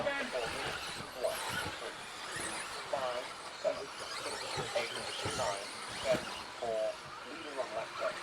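4WD radio-controlled race cars scream down the straight in an A final, their high electric whines rising and falling in quick passes with brief tire squeals, while a commentator talks over the action.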